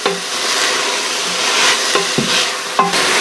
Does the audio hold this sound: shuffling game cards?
no